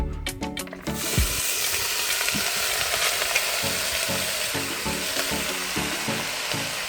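Dumplings frying outdoors in a pot of hot oil, a steady loud sizzle and crackle after a few clanks at the start, with occasional low knocks from stirring.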